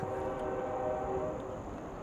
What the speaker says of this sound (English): It's the only problem about recording over here is you always have trains.